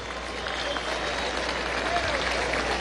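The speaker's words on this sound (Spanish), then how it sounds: "Un aplauso al general en jefe Padrino López." Audience applause during a Venezuelan presidential budget presentation at the National Pantheon, a steady, dense wash of clapping heard at a distance.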